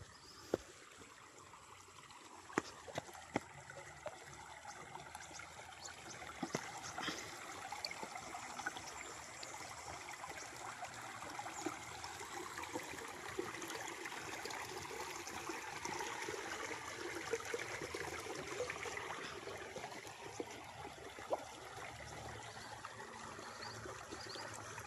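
A river flows steadily along a farm lot's frontage, a soft continuous wash of moving water with faint trickling, distant and even throughout with no voices.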